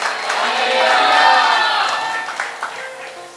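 A church congregation shouts hallelujah together, a swelling mass of crowd voices rising and fading with some scattered clapping, fairly loud and close.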